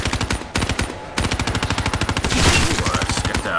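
Death Machine minigun in Call of Duty: Black Ops 3 Zombies fires in rapid, relentless bursts, a dense rattling stream of shots with a brief pause near the start, loud and close amid game noise.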